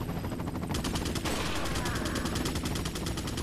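Rapid gunfire in the Resident Evil 4 video game, a dense burst of repeated shots firing in quick succession over game background noise.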